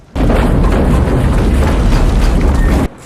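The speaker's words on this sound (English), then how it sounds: "with all these explosions and all this fire" A loud, sustained roaring blast from an action film rumbles continuously for a few seconds, thick with low-end boom, then cuts off abruptly.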